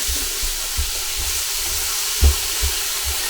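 Meat frying in a pot for pasta e fagioli soup, releasing its own fat in a Ninja Possible cooker; a steady close sizzle and hiss with occasional soft stirring knocks.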